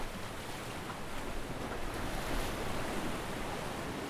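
Sea waves wash onto the beach at Findhorn as a continuous soft roar of surf, faint and diffuse, with wind rushing over the microphone and no voices.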